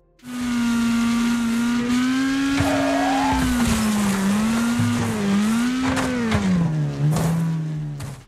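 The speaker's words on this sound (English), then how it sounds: "Wreckfest Mobile is great racing game for mobile devices." Racing cars in the mobile game Wreckfest Mobile: a loud, close engine drones and revs continuously with pitch rising and falling through gear changes, with brief tire squeals layered over it.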